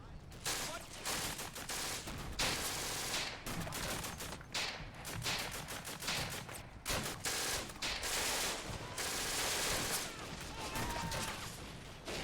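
MG42 machine gun fire in the Combat Mission Afrika Korps video game, loud rapid bursts mixed with other gunfire and a few booms, with brief speech over it.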